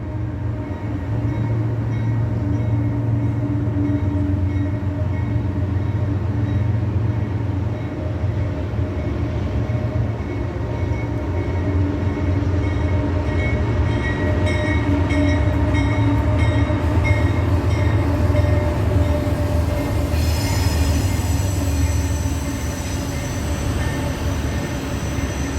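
An intermodal freight train passes L'Enfant Station in Washington DC, a loud, steady rumbling roar of wheels and cars that holds for the whole stretch with faint metallic squeals and no talking.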